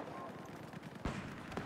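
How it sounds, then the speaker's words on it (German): Sniper rifle fire in Battlefield 4 multiplayer, a single sharp distant crack standing out over faint game ambience and a quieter second report just after. "Oh, das snipert einer"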